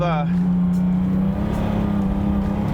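A rear-wheel-drive Ford Capri rally car in a driving video game spins its wheels, giving a steady, loud revving engine drone with a strained whine that holds through the short stretch.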